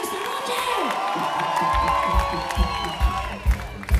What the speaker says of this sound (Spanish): Que sigan esas pinches palmas